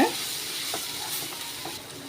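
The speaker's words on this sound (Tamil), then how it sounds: "இந்த மசாலா வந்து எண்ணெயில் நல்லா வதக்கி விட்டுக்கோங்க" Masala sizzles as it is sautéed in oil for an Erode-style Nallampatti chicken fry, a steady close hiss broken by a few soft stirring scrapes, with no talk.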